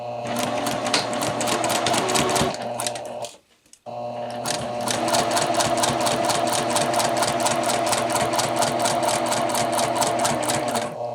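A sewing machine runs a number 2 stitch with back tacks along a two-piece collar with stand, its rapid needle chatter loud and close, stopping briefly once before continuing at steady speed.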